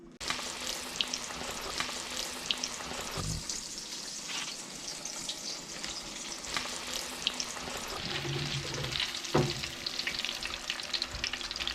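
Cold shrimp deep fry in a pan of hot oil, giving a steady, bubbling sizzle with a few sharp pops and brief clatters, heard alone without talk.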